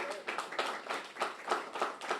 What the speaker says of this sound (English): Big round of applause for our mayor.